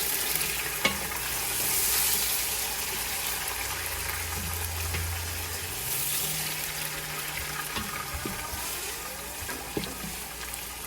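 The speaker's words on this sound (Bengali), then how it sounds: "এই তেলেই ভেজে নিলে আমার কাছে মনে হয় সহজেই হয়ে যায়। তো আমি একে একে এখন চিকেনগুলো দিয়ে দিব" Chicken pieces go into hot oil in a large pot on a high electric burner and are stirred, producing a continuous loud sizzle with scraping and clinking from the spoon near the start and end, no voices.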